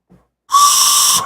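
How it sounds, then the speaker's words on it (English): A collectible Resident Evil 0 train whistle blown once, giving a steady, loud, breathy shrill tone that holds for about three quarters of a second and then cuts off, alone without talk. "It's a train whistle."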